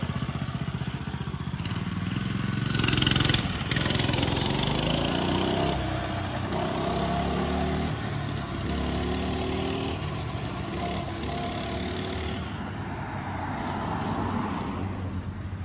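Small single-cylinder engine of a Coleman mini bike running as it is ridden, a steady close buzzing drone that rises and falls with throttle changes throughout.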